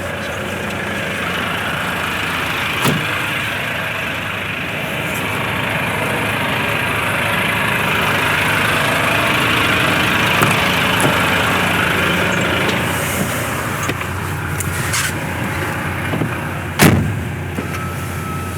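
A stopped truck idles in neutral, its steady engine rumble running loud and continuous throughout, with two sharp knocks standing out near the start and near the end.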